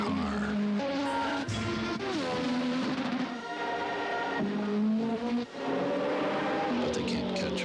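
Car chase in a television advert for a Nissan 300ZX Twin Turbo: engines rev and whine up and down in rising and falling sweeps, with brief skids, loud and continuous, and voices briefly mixed in.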